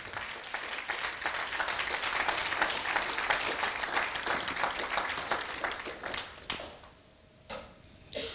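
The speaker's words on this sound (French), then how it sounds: "Est-ce que vous pouvez acclamer le nom du Seigneur?" A church congregation applauds with dense, lively clapping that lasts several seconds and then tapers off into a few scattered claps.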